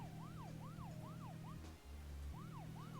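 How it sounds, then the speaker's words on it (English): Wailing police car siren from a car in Deadly Premonition, rising and falling in steady rapid sweeps over a low engine drone, pausing briefly midway before resuming, loud and close with no talk. "Oh, I put the sirens on."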